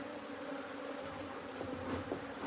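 A wild colony of bees being moved into a new hive box drones in a dense, continuous buzz, close and steady throughout, with faint handling noises and no talk.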